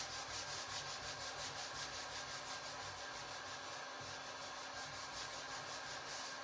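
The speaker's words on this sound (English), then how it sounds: "I'm going to go ahead and just sand up here too so it all looks the same." A wooden cutting board being sanded with a steady, continuous rhythmic rubbing scrape, close and even in level throughout, with no talk.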